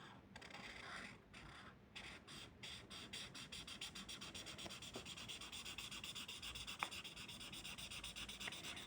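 A KAGITO brush pen rubs and scratches across paper in quick repeated strokes, a soft, close, rasping sound with a few sharper ticks.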